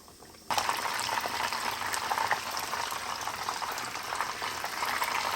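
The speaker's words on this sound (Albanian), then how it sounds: "Derisa të pjekën shniclat, i pjekën pra mirë në 2 anë" Schnitzels frying in a pan, a dense, steady sizzle that starts abruptly and holds loud and close throughout, with crackling pops scattered across it and no voices.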